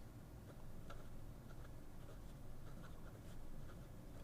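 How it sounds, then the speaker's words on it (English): A Maiora Ultra Ogiva fountain pen writing in reverse across paper, giving a soft, steady scratching with faint ticking strokes over a low background hum, no voices. "Reverse writing"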